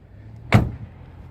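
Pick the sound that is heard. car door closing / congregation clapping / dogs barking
car door closing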